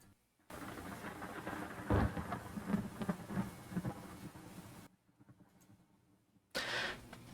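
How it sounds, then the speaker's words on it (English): Deep rumbling thunder rolls in from far off within a visual novel game, swelling to a heavy crack, then fading before a softer rush of rain-like noise returns at the end. "you both hear thunder in the distance, a sign that it's going to rain heavily"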